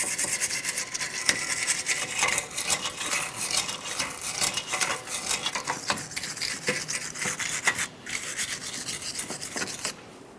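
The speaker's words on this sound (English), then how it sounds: "We want to ensure that the mounting plate along this area is clean and inside of this port where the back of the wheel bearing will go." Wire brush scrubbing the wheel bearing mounting plate on a 2011-2020 Toyota Sienna rear hub, a continuous rapid rasping with brief pauses, close and fairly loud.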